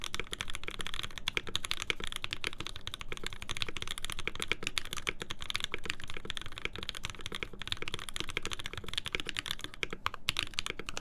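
A Slipline mechanical keyboard fitted with mixed GMK Triumph Adler and JWK Jamon keycaps typed on steadily and fast, producing a dense, even clatter of close clicky keystrokes, no voices present.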